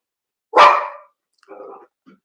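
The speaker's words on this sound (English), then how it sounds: "Sorry about the barking in the background." A small pet dog gives one loud, close bark, followed by a softer pair of yips and a brief faint whimper, with silence between.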